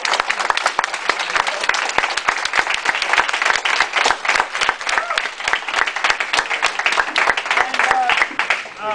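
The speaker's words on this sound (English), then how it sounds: "let's give a big round of applause for the winners of the contract" A university software engineering class audience gives loud, continuous applause for contract-winning team, a dense crackle of many hands with voices cheering and talking underneath.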